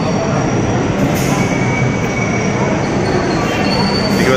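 A metro train pulls into a railway station with a loud, steady roar of wheels on rails and a thin metallic squeal, continuous and close throughout.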